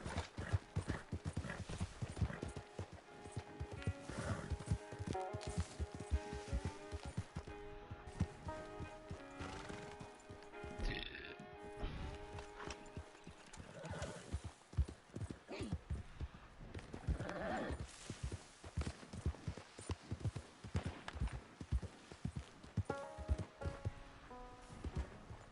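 Horse hooves clip-clop steadily through Red Dead Redemption 2 gameplay, joined by a few whinnies and neighs amid music, with someone talking over the game now and then.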